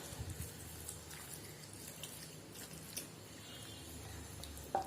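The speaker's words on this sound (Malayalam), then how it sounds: "ഇനി ഇതിലേക്ക് 1/4 കപ്പ് വെള്ളം ചേർത്ത് കൊടുക്കുന്നുണ്ട്" A quarter cup of water is poured into rava idli batter, making a faint, steady trickle and splash against a quiet background.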